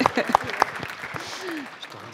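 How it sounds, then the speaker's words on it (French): An audience applauds award winners at a sports inclusion prize event, with scattered claps mixing with voices and crowd murmur at moderate loudness. "Sous vos applaudissements, s'il vous plaît."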